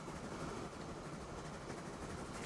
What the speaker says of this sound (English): now with that train on that line, the one that's supposed to travel on this route can finally travel on it